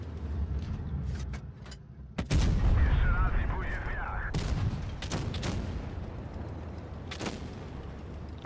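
Tank cannon fire in World of Tanks Blitz, booming shots and rumbling impacts repeating over several seconds, loud and close, with someone talking over the battle.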